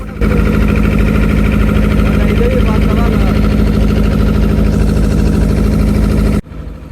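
A powerful engine on a fishing trawler at sea in the deep Bay of Bengal near the Sundarbans, a loud, steady low drone that runs unbroken for several seconds before cutting off abruptly near the end.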